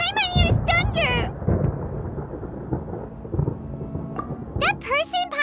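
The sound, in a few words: thunder in Genshin Impact video game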